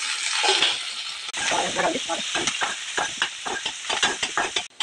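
Long green chillies fry in a pan of oil with onion, a dense, close sizzle and hiss broken by repeated scraping stirs and light clinks, continuous throughout with a quiet voice barely present.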